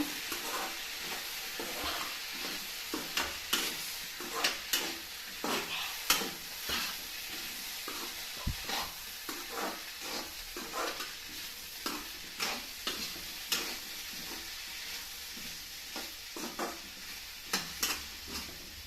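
Vegetables tossed with chili powder are stirred in a pan over a quiet sizzle, with a regular rhythm of spoon scrapes and clacks against the pan repeating throughout, and no voices.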